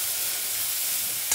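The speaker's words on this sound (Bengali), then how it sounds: "এখানে ফোড়নটা হচ্ছে" Spices sizzle and crackle in hot oil for a tempering, a steady close frying hiss that holds evenly throughout and briefly brightens at the very end, with no talking.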